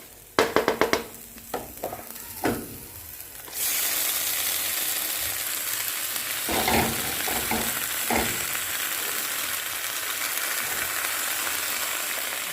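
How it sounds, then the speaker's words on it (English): Spinach tossed into a pan of frying rice with vegetables and chorizo, a few sharp scraping stirs up front, then a steady loud sizzle hissing on with occasional spatula knocks and clatters. "our spinach will be going in now, and just brush all those veggies to the side"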